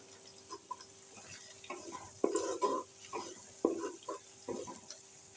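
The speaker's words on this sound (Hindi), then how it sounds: "इस तरह से ये देखें, तकरीबन 1 मिनट तक मैं भूनूंगी इसको।" Ground spices and chillies being dry-roasted in a pan for matar pulao, heard as irregular spoon scrapes and clinks against the pan over a faint, low sizzle.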